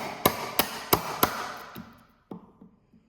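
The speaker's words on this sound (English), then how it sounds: "I'm close there, but I'm going to have to wedge some of this out. Be conscious not to chisel towards yourself." A chisel is struck into a wooden beam to cut out a half lap joint for a batting cage. Four sharp, evenly spaced strikes are followed by a few softer, scattered taps nearby.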